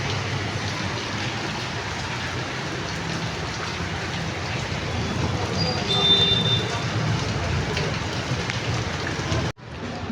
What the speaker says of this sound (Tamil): மழை நல்ல மழை சொந்தங்களே.